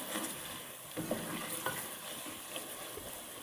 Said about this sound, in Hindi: 2-3 मिनट हो गए हैं, तो मैं चला लेती हूँ।